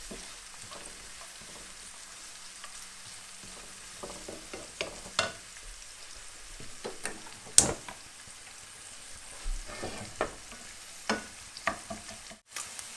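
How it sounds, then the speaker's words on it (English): Onions frying in a pan, a steady close sizzle broken by repeated scraping and tapping as a spoon stirs them. "We just fry that for a couple of minutes."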